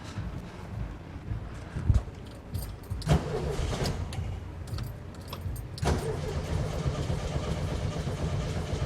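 A 1972 VW Karmann Ghia being cranked over amid wind buffeting and a jangle of keys, with a couple of sharp clunks and a steady rough engine-like rumble that never clearly catches.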